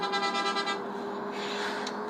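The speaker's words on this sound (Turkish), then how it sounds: "korna sesi çok bok geliyor baksana" A bus horn in a bus simulator video game gives a short, flat blast that repeats in quick pulses, then holds as a steady tone over a low engine hum.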